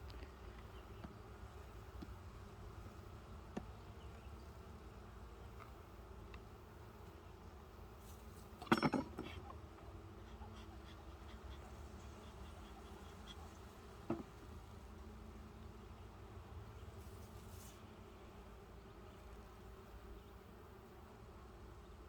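Honey bees buzzing around an open hive during an inspection, a soft steady hum close by with a couple of brief clicks and knocks from handling the frames.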